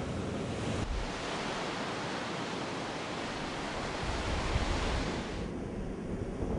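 Ocean waves break on a surf reef in a broad, continuous roar of surf with some wind noise, heard alone and steady throughout.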